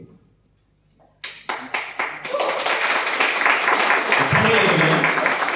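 Audience applause at a lecture, starting as a few scattered claps and swelling into sustained, dense clapping from a crowd that continues to the end.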